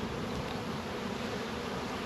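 Honey bees drone in a dense, continuous buzz at an opened hive frame during a beekeeping inspection, loud and close with no pause.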